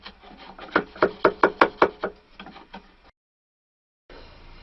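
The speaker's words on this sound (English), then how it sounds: "You lie your chisel flat against here, and you just pop out the." A chisel pops out wood while a stick dulcimer is being made, a quick run of about ten sharp woody knocks and scrapes close by, followed by a brief silence and then a low room hum.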